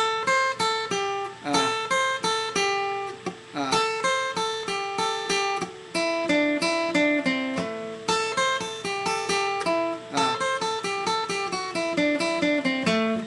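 Guitar notes picked one at a time in a steady, even run, each attack distinct and separated, played alone without any talking.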